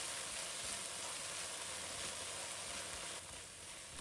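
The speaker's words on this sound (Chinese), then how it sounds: "快速翻炒，让酱汁均匀裹在食材上" Stir-frying in a wok over high heat with soybean paste and a little dark soy sauce coating garlic, chili and cabbage, a steady close sizzle that dips slightly near the end, with no voices.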